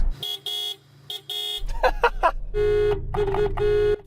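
A supercharged Toyota GT86 car horn gives several short beeps, then a stretch of mixed tones, then longer sustained blasts. It is loud and nearby.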